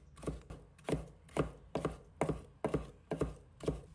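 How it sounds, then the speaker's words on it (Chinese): A knife chops cucumber into thin strips on a board, striking in a steady, even rhythm of about eight crisp close-up cuts with no voices. "接着切成粗细均匀的细丝"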